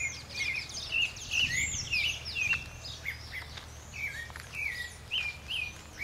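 A sabiá thrush sings at a campsite, its clear whistled phrases repeating every second or so at moderate distance over a soft, steady background patter.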